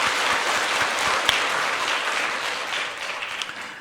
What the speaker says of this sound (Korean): 다시 한번 우리 박수.